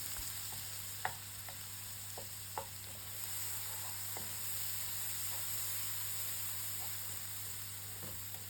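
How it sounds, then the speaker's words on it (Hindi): Garlic, ginger and green chili paste fries with masala in a pan, giving a quiet, steady sizzle broken by a few soft clicks of stirring, with no talk. "लहसुन, अदरक और हरी मिर्च का पेस्ट 2 खाने के चम्मच और इसको भी फ्राई कर लेना है"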